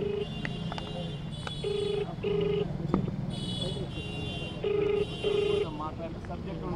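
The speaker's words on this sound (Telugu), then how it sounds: "ఇదిగో ఇప్పుడు కూడా మళ్ళీ రామ్ గోపాల్ వర్మకి ఫోన్ చేస్తున్నాను." Telephone call being placed, with a steady series of electronic ringback and dial tones repeating in short bursts at moderate level, while someone talks over it.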